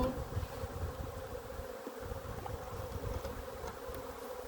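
Honey bees buzz steadily around a beehive during swarm handling, a dense continuous drone close by and alone throughout.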